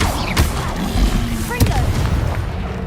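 Incendio fire spells are cast in Hogwarts Legacy, producing loud booming blasts and sharp whooshing bursts with crackling impacts layered over continuous game noise.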